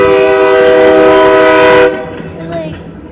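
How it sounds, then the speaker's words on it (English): A train passes close by with its horn blaring loudly and steadily for nearly two seconds before cutting off abruptly, leaving fainter rumbling rail noise afterward. "Oh my goodness, train! Leave us alone!"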